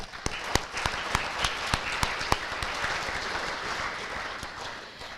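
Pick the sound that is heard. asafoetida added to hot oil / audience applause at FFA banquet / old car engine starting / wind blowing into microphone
audience applause at FFA banquet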